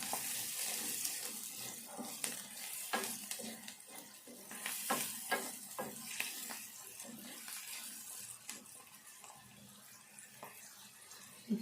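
Ivy gourd pieces sizzle in hot oil in a pan while a Telangana green chilli ivy gourd curry cooks: a steady, fairly loud hiss with frequent sharp spatter pops and occasional spoon clicks, and no talking.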